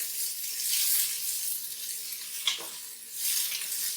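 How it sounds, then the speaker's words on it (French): Onions sizzling in hot oil in a pan over medium-high heat, a steady hiss with a brief scrape of stirring partway through, close and fairly soft, no talk. "mon huile est chaude, c'est maintenant l'heure de mettre les oignons"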